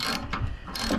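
Ratchet tightening the fuel tank bolt on a 2008-2010 ZX10R motorcycle, a short close series of clicks and mechanical clatter.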